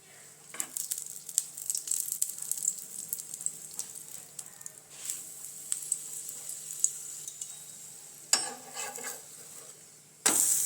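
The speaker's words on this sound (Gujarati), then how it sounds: "અહીંયા નોનસ્ટિક તવી રાખી દીધી છે, તે ગરમ થઈ ગઈ છે અને તેની ઉપર આપણે નાન રોટી રાખી દેવાની છે" Naan roti cooks on a hot nonstick tava with ghee, giving a soft sizzle under scattered clinks and scrapes of a utensil, close and fairly quiet, with a louder clatter near the end.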